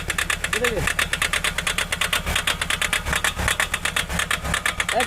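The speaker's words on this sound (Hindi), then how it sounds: "ये देखिए इंजन का साउंड है और इंजन थोड़ा मिसिंग भी कर रहा है।" Mahindra XUV 500 engine with a knocking and misfiring fault, heard up close as a fast, steady rhythmic ticking clatter with an uneven pulse, while someone talks over it.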